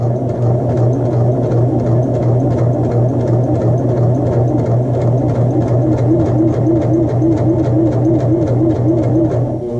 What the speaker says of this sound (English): Now we'll continue with our basting stitch.